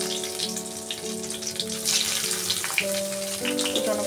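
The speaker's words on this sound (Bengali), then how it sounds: "এরপরে আমি গোটা জিরে ফোড়ন দিয়ে দিচ্ছি। এবার তেজপাতাটা দেবো।" Whole cumin seeds and a bay leaf sizzle in hot oil for potato dum, a steady, close crackling hiss that fills the whole stretch, with a faint tonal hum running underneath.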